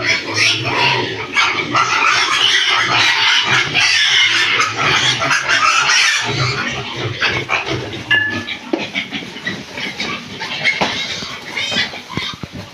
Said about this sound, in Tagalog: Ingay ng biik.